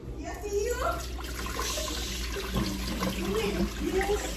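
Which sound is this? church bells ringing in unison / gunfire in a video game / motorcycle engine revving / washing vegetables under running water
washing vegetables under running water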